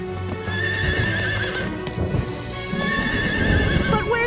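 A cartoon horse named Chili whinnies while its hooves clip-clop through a rainstorm, the neighing and hoofbeats close over a steady wash of rain.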